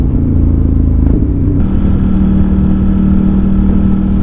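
Loud, steady drone of a V4 sport motorcycle engine heard while riding, a constant close roar with a brief shift in tone partway through.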